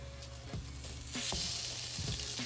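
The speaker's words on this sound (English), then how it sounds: "the French toast is looking really good on the other side, so I'm gonna go ahead and flip it" French toast sizzling in a pan after being flipped: a steady, dense frying hiss that swells slightly midway, with a couple of soft low knocks from the spatula.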